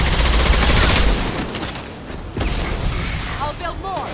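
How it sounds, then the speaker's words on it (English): Heavy gunfire and explosive blasts in the video game Mass Effect 2, a dense loud barrage that thins after a second and then flares again, with clattering mechanical noise throughout. "Taking heavy fire."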